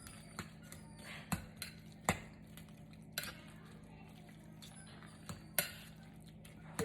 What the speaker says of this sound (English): I can just kind of mash it as I stir.